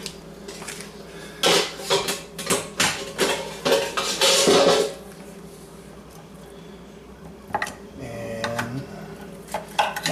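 A knife cuts up cooked teriyaki beef ribs on a board, giving a run of sharp, close clacks and scrapes that stop partway through. A short spoken word comes near the end.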